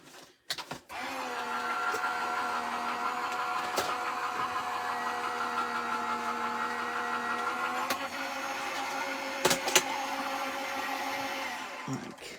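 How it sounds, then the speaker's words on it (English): An embossing folder rolls through a hand-cranked die cutting machine at a craft table, giving a steady whirring, grinding hum for several seconds, framed by a few sharp clicks and thumps at the start and finish. "I'm going to pass that through my die cutting machine"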